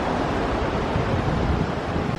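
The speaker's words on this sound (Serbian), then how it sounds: "ova plaža mi ne deluje nešto obećavajuće, baš je mala, ali voda, nestvarno koliko je lepo" Surf rolls onto a small beach on Crete, a dense continuous wash of water mixed with strong wind buffeting the microphone, loud throughout.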